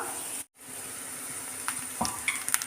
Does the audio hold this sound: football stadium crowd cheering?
no